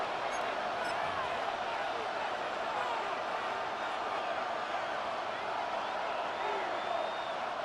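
A video game stadium crowd in Madden NFL 26 roars as a steady, dense wash of cheering with scattered whistles, continuous and fairly loud throughout.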